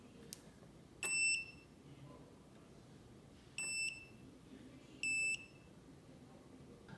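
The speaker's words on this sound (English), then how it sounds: "I have the beeper working" A small electronic beeper on an STM32 lap counter circuit sounds three short, clear, high-pitched beeps at irregular intervals, close and fairly quiet over a faint background hiss.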